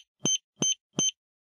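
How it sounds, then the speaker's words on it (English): Three short, evenly spaced electronic beeps from an S&G 2740 safe lock during a combination change, clear and close, followed by silence. "listening for 5 quick beeps to indicate a successful combination change"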